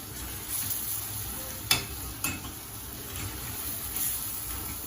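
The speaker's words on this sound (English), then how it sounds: "So this is how we keep stirring the egusi." Fried egusi soup is stirred in a pot over a soft, continuous sizzle, with a couple of sharp scraping knocks of the spoon against the pot, heard alone and close.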